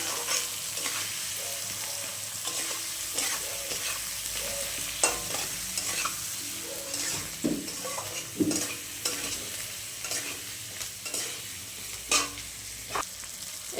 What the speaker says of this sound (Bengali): হালকা একটু কষিয়ে বাঁধাকপিটা দিয়ে দিব।